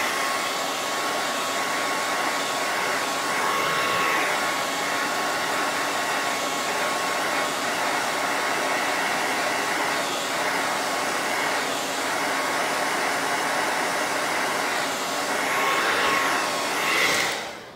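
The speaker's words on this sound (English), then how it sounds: "Let me blow dry that real quick." A hair dryer blows steadily for about eighteen seconds, drying wax on a stencil-painted stove top cover noodle board, a loud, constant whirring airflow heard alone with slight shifts in pitch before it cuts off at the end.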